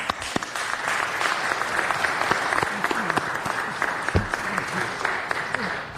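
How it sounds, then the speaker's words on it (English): A city council chamber audience gives a steady round of applause, dense clapping filling the room throughout with faint voices mixed in underneath. "If we could please give Michael a round of applause"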